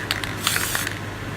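Spray paint can hissing out green paint for a mountain and waterfall spray art piece, a few short bursts in quick succession, close and fairly loud.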